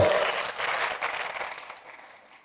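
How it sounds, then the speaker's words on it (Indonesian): Congregation applauding inside a church during a sermon, a dense burst of clapping that starts loud and gradually fades out over a couple of seconds. "Berikan tepuk tangan bagi Tuhan."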